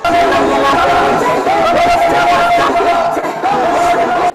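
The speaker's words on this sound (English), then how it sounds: "The crowd erupted into jubilations upon Museveni's arrival in the evening" Hundreds of ghetto youth at Kawempe Mbogo Mosque grounds cheer for President Museveni's arrival in the evening, a loud, dense roar of yells, whoops and chatter that swells and holds throughout.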